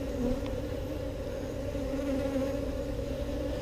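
Honeybees in a Texas hive buzz steadily around a newly born bee begging for food, a dense, continuous close-up drone with a faint higher whine over it and no talk.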